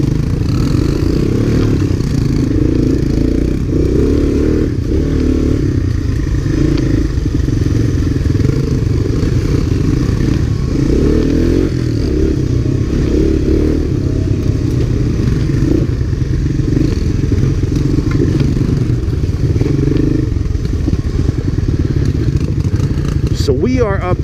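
Honda Big Red and ATC250SX three-wheelers from 1985 and 1986 ride a muddy trail in Vernon, New Jersey, their engines droning loudly and steadily up close with rattling clatter throughout, while a rider talks over the noise.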